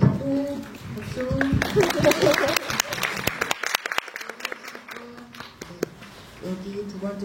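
Audience applause at a Korean film event, dense clapping near at first, then thinning into scattered claps with voices murmuring through it.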